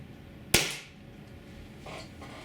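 A Tiberius T9.1 carbine in CQB configuration, running on HPA, fires a single shot: one sharp, loud, close pop with a short decaying tail, followed by quiet room tone.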